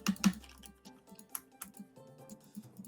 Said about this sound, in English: I apologize if you can hear me slamming my keyboard.